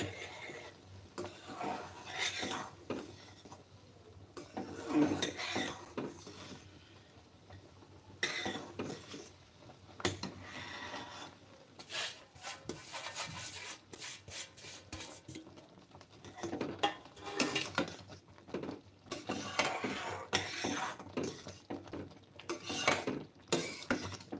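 Semolina being stirred into boiling water in a pot, with scattered scraping, tapping and rattling of a spoon against the pot in irregular bursts over a soft background.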